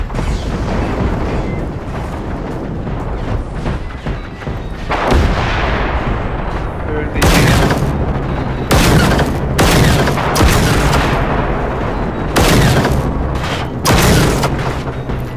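Repeated loud gunshots in Generation Zero, about six heavy booming reports spaced irregularly across the clip over a steady rumbling game background, with no talk.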